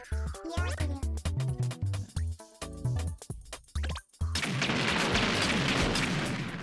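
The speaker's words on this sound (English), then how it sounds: "Did you check how long you could stop the explosions for?" Explosions in a game made in Game Builder Garage: a loud, continuous crackling roar of blasts that takes over after several seconds of rhythmic, tonal game effects, with no talking.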